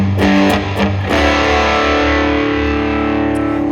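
Electric guitar through a Noble overdrive pedal playing a distorted country tone, a few loud strummed chords followed by a long sustained ringing chord that slowly fades, with no voice.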